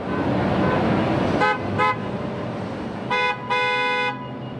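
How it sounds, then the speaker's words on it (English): Golden Empire Transit buses sounding horns: a couple of short blasts then longer overlapping honks over steady engine and road rumble, fairly near and loud. "GetBus gave 2 horn blasts as part of the Sound the Horn campaign"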